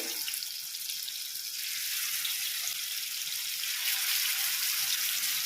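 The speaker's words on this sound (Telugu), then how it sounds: "మసాలా కలిపినటువంటి ఈ చేప ముక్కలన్నీ కూడా ఇలా ఆయిల్లో వేసుకోవాలి" Masala-coated fish pieces for a tomato masala fish fry sizzle in hot oil, a steady bright hiss that swells louder partway through, with no talking.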